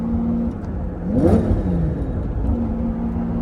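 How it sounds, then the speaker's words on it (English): Close to the car, the 5.7-liter V12 of a Lamborghini Diablo idles, swells into one sharp rev that climbs and drops, then settles back into a steady idle. "Ooh, nothing like that V12"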